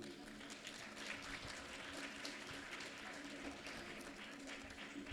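An audience applauds teachers at a school gathering, a steady dense wash of clapping filling the room for the whole stretch, with a faint murmur of voices beneath it.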